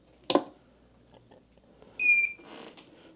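A BougeRV 2000W 12V power inverter clicks on and then gives a single short, loud electronic beep of about a third of a second, alone in a quiet room.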